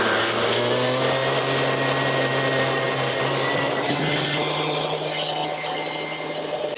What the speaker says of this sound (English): so now we're going to blow out the line